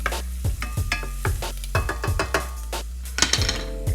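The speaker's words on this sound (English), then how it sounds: "let's get ready to get our beans in there" Beans going into a hot pan for a smoked carne asada meal sizzle steadily while a utensil stirs and scrapes with repeated close clanks and knocks against the pan.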